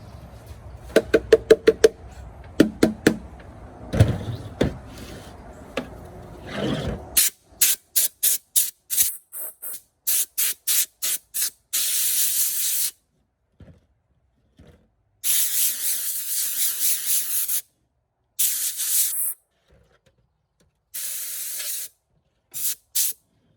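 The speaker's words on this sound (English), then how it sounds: "it makes it a whole lot nicer to be able to use an air compressor" Compressed air hisses from a nozzle while blowing Carefresh bedding out of a rabbit cage in a rabbitry. Rapid, loud, sharp spray bursts build into longer sustained blasts, with silent gaps between them and a few final short puffs.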